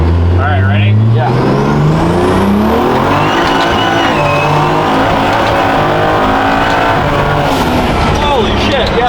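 A car with an N54 engine and swapped 8HP50 automatic transmission launches and accelerates hard, engine roaring loudly and continuously with rising pitch through gear changes, while excited voices shout over it.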